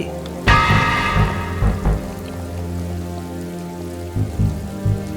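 Heavy rain falls steadily at night with deep rumbles of thunder, one loud crack near the start and more rolling rumbles toward the end.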